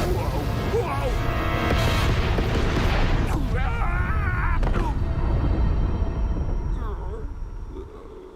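Missiles launching and blasting in an animated Sonic episode: a continuous loud roar of booming explosions and rumbling blasts, with voices shouting over the chaos before the noise trails off.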